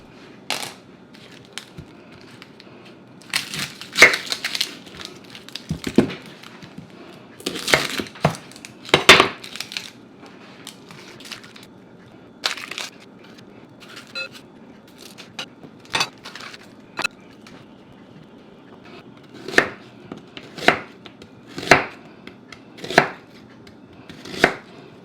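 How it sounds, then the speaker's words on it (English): A knife chops an onion on a cutting board in a home kitchen, giving quiet, irregular, sharp taps spaced across a mostly still background, with no talking. "Let's begin by chopping an onion."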